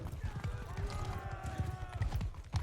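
Horse hooves clip-clop in quick, uneven beats in the video game Mount & Blade 2: Bannerlord, fairly close, with a faint whinny-like tone and game ambience underneath.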